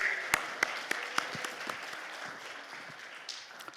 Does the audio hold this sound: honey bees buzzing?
no